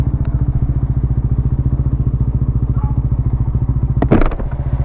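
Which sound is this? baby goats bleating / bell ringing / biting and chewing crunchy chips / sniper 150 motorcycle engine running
sniper 150 motorcycle engine running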